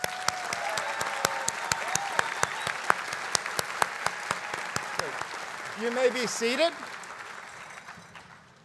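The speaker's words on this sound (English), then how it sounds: "So will you please join me in a huge round of applause" A large crowd applauds at a School of Engineering commencement ceremony, with loud, sharp claps ringing through a big space before the clapping fades and a voice briefly addresses the audience.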